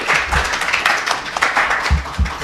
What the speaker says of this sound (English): Let me ask you to thank our panel by a round of applause.